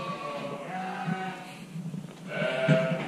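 Several sheep bleat inside a lambing barn, their calls overlapping and fairly close, with one loud bleat near the end above a steady low barn hum.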